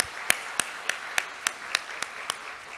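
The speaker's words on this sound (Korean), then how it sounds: "우리 박수로 축하합시다" Church congregation clapping together in a steady rhythm of about nine sharp, evenly spaced claps, moderately distant in a reverberant hall during a Sunday service.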